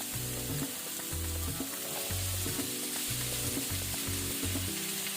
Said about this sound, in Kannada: ಈರುಳ್ಳಿ ಸ್ವಲ್ಪ ಫ್ರೈ ಆದ ನಂತರ ನಾವು 1 ಸಣ್ಣ ಸೈಜ್ ಟೊಮೆಟೊ ಹಾಕೋಣ.